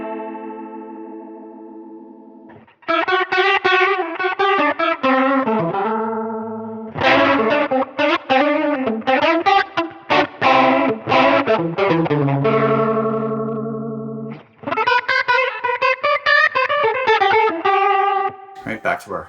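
Electric guitar played through a slow, deep vibrato effect on a Line 6 Helix, its sustained distorted chords and notes wavering in pitch across several loud phrases separated by short pauses, with no talking.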